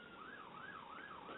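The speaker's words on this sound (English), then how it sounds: "You've got sirens in the background." A wailing siren rises and falls in repeated slow sweeps, steady and moderately distant, like an ambulance or emergency vehicle passing through a busy street corner, with no voices over it.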